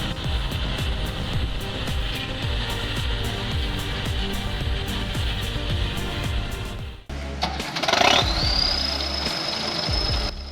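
A Belarus tractor engine clatters in a steady, rough rhythm, then drops away as a turbo whistle rises sharply and holds a high, sustained whine near the end.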